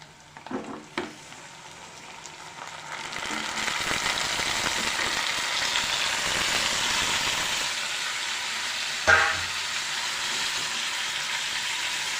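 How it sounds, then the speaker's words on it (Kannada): Tomatoes dropped into a hot pan of reddened onions for tomato gojju set off a loud, continuous sizzle that swells after the first clatters, with a sharp stirring clank near the end. "ಇವಾಗ ನಾನು ಟೊಮೊಟೊ ಹಾಕ್ತಾಯಿದ್ದೀನಿ"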